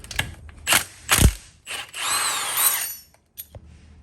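Ratchet wrench loosening a bolt on a Toyota R150F manual transmission during a rebuild, giving several bursts of rapid metallic clicking with short pauses, close and fairly loud, with no talking.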